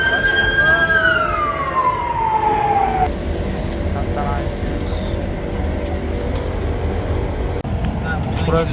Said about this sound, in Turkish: Adam trafiğe bak. Ambulans gidemiyor bile.